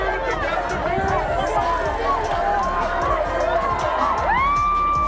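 A loud arena crowd at a boxing event roars and cheers continuously, a dense wash of shouting voices with a rising whistle or cry near the end.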